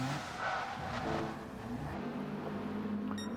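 Race car in a sim racing game, revving and spinning its tyres with a sustained engine drone and skid, ending in a brief impact against a wall, no talking.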